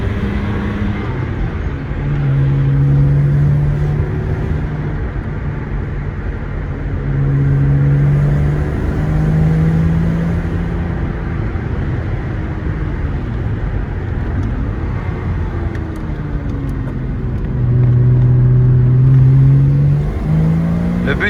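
High-mileage Porsche (240,000 km) driving uphill on a road climb to test and bed in its brakes, a low engine drone rising and falling through repeated accelerations, with people talking in the cabin.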